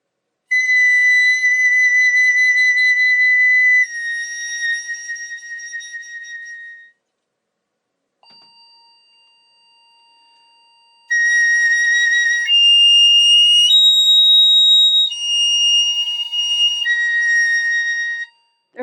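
Piccolo sustaining long, pure high tones in a perfect-interval tuning study, with held notes stepping between pitches, a short pause with a faint lower drone, then more bright, loud sustained tones, alone without talk.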